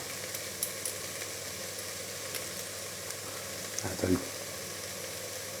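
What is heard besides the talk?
ground cumin and coriander frying in pumpkin soup pot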